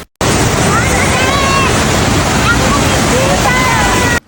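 Taytay Falls in Laguna, at the foot of Mount Banahaw, roars as a continuous broadband rush of falling water, heard close and loud with faint voices under it.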